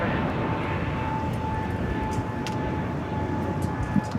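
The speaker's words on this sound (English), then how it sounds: "That was American Airlines flight 1659 headed to Dallas Fort Worth, Texas, an A321 Neo" An American Airlines Airbus A321neo jet at LAX airport produces a steady broadband engine roar, continuous and fairly even throughout, with faint background noise.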